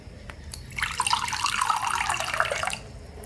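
Water for moka pot coffee is poured in a steady stream for about two seconds, a bright splashing trickle into the vessel, close and alone with no talk.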